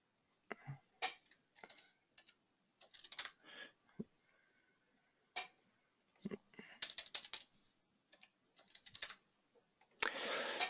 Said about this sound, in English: So I type in the stock code.